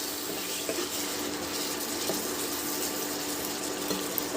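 A little water is poured into spices frying in a pan for a potol chingri (pointed gourd and prawn) curry, giving a steady, close hissing rush that holds evenly throughout with no voices.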